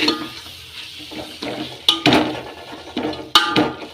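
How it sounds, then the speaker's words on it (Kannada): Spoon stirring garam masala and pepper powder into vegetable pulao in a pan, with irregular scraping and clinking strokes of varying loudness over a soft sizzle. "ಚೆನ್ನಾಗಿ ಮಿಕ್ಸ್ ಮಾಡ್ಕೊಳ್ಳೋಣ."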